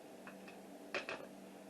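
A metal tablespoon clinks twice against a glass jar of beef pot pie filling, quick faint taps in a quiet kitchen with a soft hum beneath.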